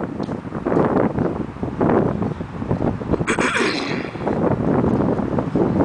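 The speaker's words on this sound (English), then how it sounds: "It's kind of windy up here." Strong wind on a rooftop parking garage roars and buffets the microphone in uneven gusts, loud and close, with a brief hissy burst midway.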